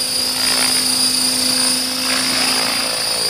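A radio-controlled AH-1 Cobra model helicopter on its maiden flight gives a steady, close, high-pitched rotor and motor whine with a faint low hum, holding even throughout with no voices.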